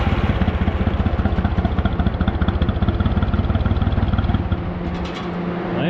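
A riding lawn mower engine idles with a rapid, even chugging pulse close by, holding steady for several seconds before the beat falters and eases off near the end.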